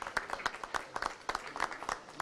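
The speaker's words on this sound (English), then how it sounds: "Let's give them a round of applause, please." An audience gives a round of applause at a Lancet gathering at Goodlife, with rapid overlapping claps that keep up steadily for a couple of seconds. It sounds fairly soft and distant, with no talk over it.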